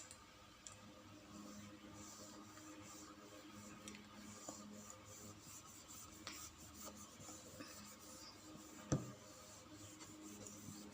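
Writing being rubbed out on a board during a maths lesson produces faint, continuous rubbing and scraping, with occasional soft taps and one sharp knock near the end.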